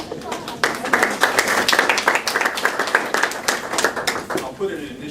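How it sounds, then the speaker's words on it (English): An audience claps for a lecturer being introduced at a talk, a run of crisp, fairly close hand claps that swells and then thins out toward the end, with some voices mixed in. "Round of applause"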